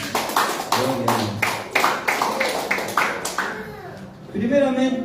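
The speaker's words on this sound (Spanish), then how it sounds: "¿Cuánto le puede dar una ofrenda de palmas, hermano, a la palabra de Dios?" A church congregation claps in a steady, even rhythm for about three seconds, then a voice speaks as the clapping stops.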